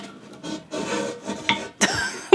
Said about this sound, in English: attempted to cut the piece out with bolt cutters